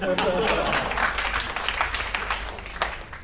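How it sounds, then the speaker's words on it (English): Audience applause at a talk, a steady wash of clapping from a crowd, strongest at first and tapering slightly, with a voice faintly mixed in. "Can you please give a big round of applause?"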